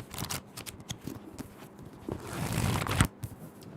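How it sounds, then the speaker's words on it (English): Quick papery riffling as pages of a book are flipped, a rapid flutter of soft slaps building to a brisk whoosh, close up. "This is the sound of a book, but not being read, being flipped."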